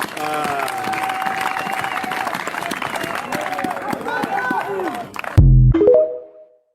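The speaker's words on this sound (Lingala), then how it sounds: "Acclamez le Seigneur Jésus" A rally crowd applauds and cheers, a dense wash of clapping and voices building for several seconds before a loud closing burst and quick fade.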